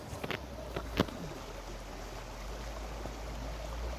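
Steady rushing of a nearby stream, with a few soft knocks and clicks near the start.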